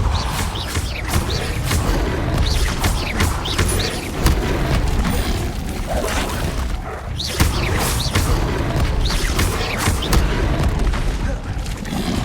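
Spell blasts from Incendio and Confringo in the Xbox Series X game Hogwarts Legacy go off as a rapid run of heavy booms and thuds. They are loud and close, with a voice talking over the barrage.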